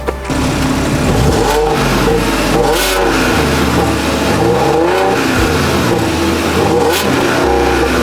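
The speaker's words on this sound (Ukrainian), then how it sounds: "послухаємо вихлоп і проїдемось." An Audi A7's engine revs hard several times, its exhaust roaring up and dropping back in loud, close surges.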